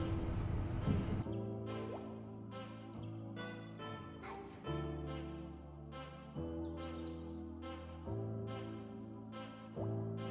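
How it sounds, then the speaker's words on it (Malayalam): Water drips and trickles from soaked soy chunks squeezed by hand over a bowl, a run of soft wet splashes that come in bursts, close and fairly quiet, with no voices. "കണ്ടില്ലേ, ഈ രീതിയിൽ പിഴിഞ്ഞെടുക്കണം."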